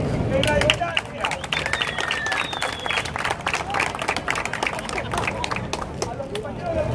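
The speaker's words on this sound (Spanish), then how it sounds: "pedir un aplauso de la distancia" A theatre audience at a World Theatre Day event applauds loudly, thick overlapping claps mixed with crowd murmur and some cheering voices, close and sustained.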